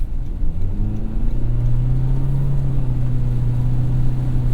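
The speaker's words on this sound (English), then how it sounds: "Hear that CVT whirring away. Definitely a more intrusive powertrain noise than something like the Prius." Hybrid powertrain of a 2023 Toyota Corolla Cross Hybrid with a CVT, a steady low whir and engine drone that climbs gently in pitch while driving, close and continuous with no talk.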